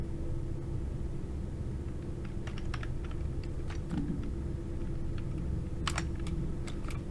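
Quick, irregular keystrokes on a computer keyboard while text commands are entered, light clicks scattered over a constant low rumble and hiss, with a brief flurry of taps near the end.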